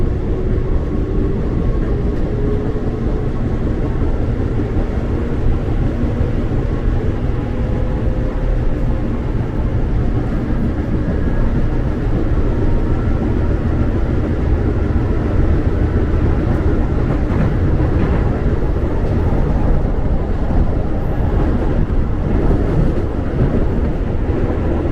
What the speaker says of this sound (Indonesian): Kita langsung berangkat dari jalur 2 stasiun Cakung.